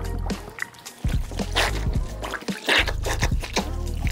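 White fabric sneaker dunked and sloshed in a basin of water during rinsing, with wet squishing, dripping and splashing bursts at irregular intervals, close and fairly loud.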